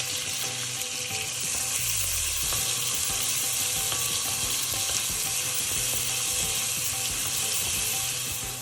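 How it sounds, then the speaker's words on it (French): Onion and bell pepper frying in hot oil for a coral lentil soup, a loud, dense, continuous sizzle heard up close, steady throughout with no speech. "Je fais chauffer l'huile et j'y fais revenir l'oignon et le poivron."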